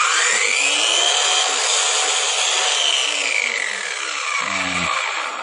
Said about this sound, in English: Okay, now we're going to test the circular saw.